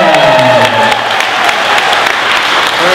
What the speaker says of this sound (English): big round of applause for Mr. John Williamson.